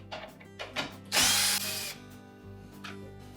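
A power drill drives out the control panel mounting screws on a Whirlpool dishwasher, whirring in one short loud burst after a few faint clicks and taps.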